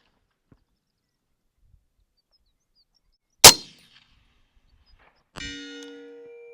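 A rifle bullet strikes a distant long-range steel target: one sharp, loud metallic clang ringing briefly, followed about two seconds later by a second fainter, tonal ring, with silence around them.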